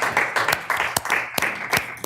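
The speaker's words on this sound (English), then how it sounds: "Thank you for the applause." Scattered applause at a Pocatello city council meeting, a handful of people clapping with distinct, uneven claps over a couple of seconds, fairly close and moderate in volume.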